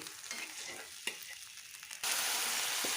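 Dhekir shak greens fry with mustard paste and some potato, giving a close, continuous sizzle with light stirring scrapes. The sizzle turns sharply louder partway through.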